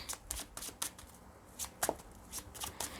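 Tarot cards being shuffled close by, with quick papery riffles and slaps in repeated short bursts across the whole stretch and no voices.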